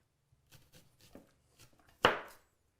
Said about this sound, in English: adding some onion on top to get a little extra flavor. And I'm just going to cut these into some rings to throw on top